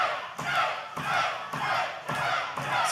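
Wrestling arena crowd cheering and roaring in loud surging waves, with chants rising and falling and occasional thuds from the ring underneath.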